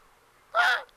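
A single harsh bird call, a crow's caw, lasting about a quarter second and fairly close, standing out against a quiet background.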